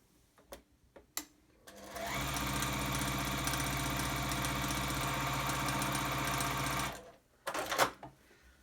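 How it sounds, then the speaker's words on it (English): Sewing machine stitching a quilt strip with a quarter-inch seam: a few light clicks, then a steady, fast mechanical whir that runs about five seconds and stops, with more handling clicks after. "center it on this strip, and sew it down a 1/4 inch"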